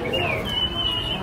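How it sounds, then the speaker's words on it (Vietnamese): Caged red-whiskered bulbuls chirp and whistle at a highland market in northwestern Vietnam, thin whistled calls over a busy murmur of market noise. "Ở bên trong này thì đa số là chim chó mào thôi."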